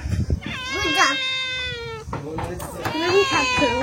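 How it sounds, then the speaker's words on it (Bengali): A cat meows repeatedly at close range, drawn-out wavering cries in several bursts, with people talking around it at a resort in Bandarban. "বিড়াল খাওয়ার মতো কিছু নাই তো এখানে"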